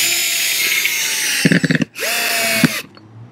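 A power drill drives screws into a flat roof laid over an existing roof, with a steady whir before a burst of short, close bursts and a longer whining run, then quiet.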